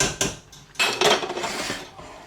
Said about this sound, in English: So just keep stirring and stirring.